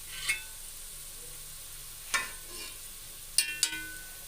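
Onions frying golden brown in a pan, heard as a soft steady sizzle with a few sharp scraping stir clicks scattered through, fairly quiet and with no voices.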